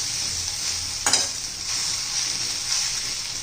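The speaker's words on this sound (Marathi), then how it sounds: "आता अजून एखादा मिनिटभर परतून घेऊ" Sliced onions sauté in a pan with an even, moderately loud sizzle, and one sharp scrape of a spatula stirring them partway through.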